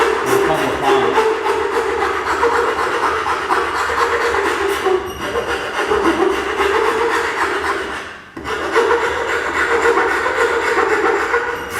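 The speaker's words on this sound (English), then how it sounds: "As I get to the finer files, you'll see that the grain pattern starts to stick off." A hand file is pushed over shaped wood in steady, rhythmic rasping strokes, close and loud, continuous with one brief pause near the end; no voices are heard.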